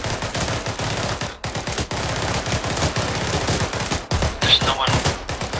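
Sustained automatic gunfire in Arma 3, dense rapid shots firing almost continuously with brief pauses, loud and close, while a voice speaks over the shooting.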